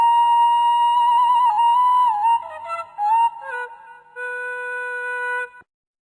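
A solo flute plays a gentle melodic phrase of sustained notes with a few quick ornaments, ending on a long held tone.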